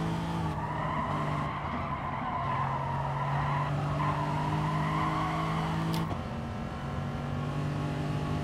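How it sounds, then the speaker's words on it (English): A race car in Gran Turismo Sport brakes hard for a hairpin at Autopolis International Racing Course, with a steady loud engine drone, tire skid and a downshift blip near the end, no talk. "We can brake a little later for the hairpin,"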